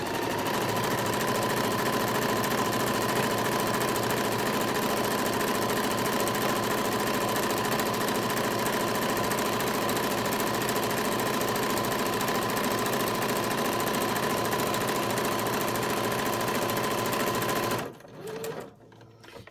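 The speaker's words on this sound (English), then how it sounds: "we are going to sew this curved edge from top to bottom" A sewing machine stitches the curved edge of a sweatshirt-fabric hood, its rapid, steady mechanical chatter running close and continuous for about eighteen seconds before stopping abruptly.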